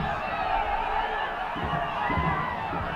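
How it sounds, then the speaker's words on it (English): A football stadium crowd at an AFC Challenge League match makes a steady, dense roar of chatter and cheering that fills the whole stretch at a distance, with no sharp peaks, and commentary talk sits over it. "We can hear the roar of the crowd right from the commentary box"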